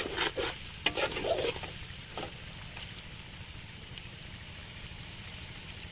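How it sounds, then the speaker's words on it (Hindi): Chicken fries in a pan over low heat and is stirred, a few louder scraping strokes early on, then a steady, quieter sizzle continuing alone. "थोड़ी देर के लिए गैस को स्लो करके इसे भून लेंगे।"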